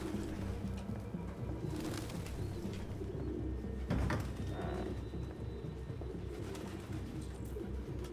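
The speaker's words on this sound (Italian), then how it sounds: "È pieno di piccioni" Pigeons cooing in the video game Detroit: Become Human, soft repeated coos over a steady ambient city bed, with a brief louder thump midway and no speech.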